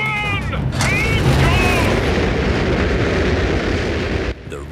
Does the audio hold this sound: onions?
no